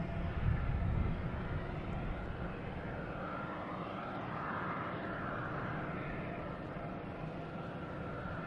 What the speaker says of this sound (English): Another plane coming in here. The JetBlue coming in from West Palm Beach.